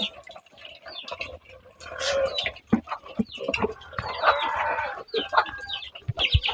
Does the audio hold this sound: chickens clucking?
yes